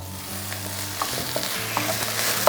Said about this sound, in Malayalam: ഈ സമയത്ത് നമുക്ക് തക്കാളി ചേർത്ത് കൊടുക്കുക.